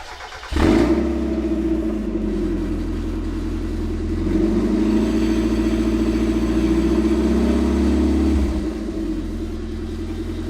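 Widebody Mazda Miata engine cranking and catching, then idling with a low rumble and rising into a sustained rev while in gear before dropping back, loud and close with no talk.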